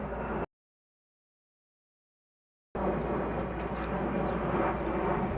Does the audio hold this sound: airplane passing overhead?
yes